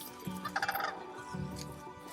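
An unfamiliar bird calling near a boat on a remote stretch of British Columbia's Inside Passage, giving two short gobbling, warbling bursts close by.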